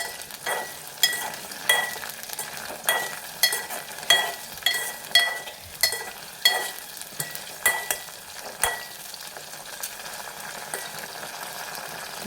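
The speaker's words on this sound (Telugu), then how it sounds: "పచ్చిమిర్చి అయితే మంచిగా వేపుకోవాలి" Green chillies fry in hot oil, a steady sizzle broken by regular, fairly close scrapes of a spoon stirring them around the pan, with no talking.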